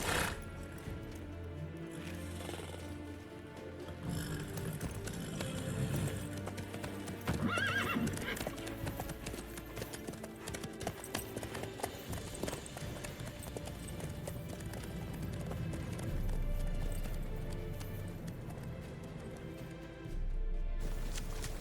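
Horse hooves clip-clop steadily in the video game The Witcher 3, with a horse neighing briefly partway through over a soft background bed.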